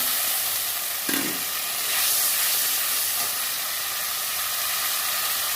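Tomato paste frying in a pan with bay leaf and cardamom, a dense continuous hiss and sizzle close up, with one brief clatter early on and no voices.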